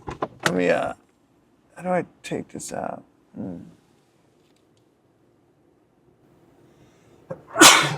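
A single sharp sneeze bursts out loudly near the end, after a stretch of brief talking inside a quiet car and a long silence.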